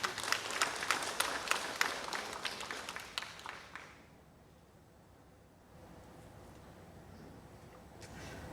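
An audience at a nature conservation seminar lecture applauds steadily for about four seconds, the clapping then fading into quiet room noise.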